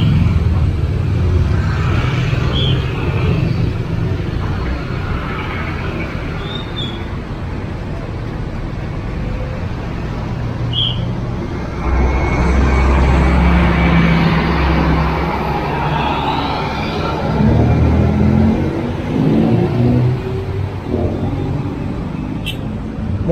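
Congested traffic at the Tlogomas bridge rumbles steadily nearby, car and motorbike engines idling and creeping forward in a dense, continuous drone while someone talks over it.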